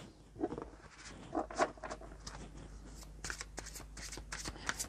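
Oracle cards are shuffled and drawn by hand, several soft riffling and flicking bursts up close, with no talk over them.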